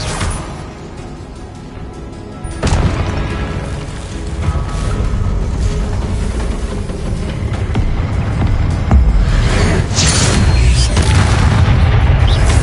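Booming spell blasts and fiery explosions in Hogwarts Legacy on PS5 build into a loud, sustained rumbling roar with repeated impacts layered through it, staying heavy and close.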